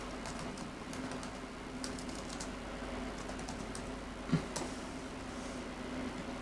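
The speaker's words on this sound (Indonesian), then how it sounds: "Di sini saya ketik direktur." Quiet, sparse keystrokes on a computer keyboard, a few soft clicks scattered over a low room hum with one slightly louder tap near the middle; no talk.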